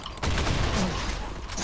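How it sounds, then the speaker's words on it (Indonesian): Video game gunfire bursts out suddenly as a dense, loud volley of rapid shots that stays up close and continuous, with no talk over it. "Aku dah tembak lah"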